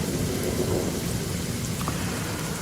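Heavy rain and thunder in an audio drama set around a forest cabin, a loud, constant downpour hiss with a low rumble underneath and no voices.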